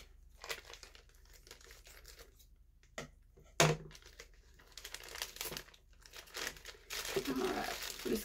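Crinkling plastic and paper rustling close by, with a sharp tearing rip partway through, as a package is handled and opened.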